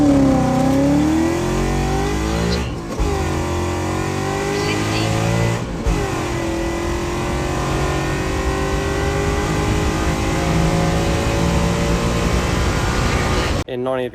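A Coyote-swapped car running E85 accelerates on an uphill quarter-mile run, its engine note rising through gears with brief breaks at the shifts, loud and close throughout before cutting off sharply at the end.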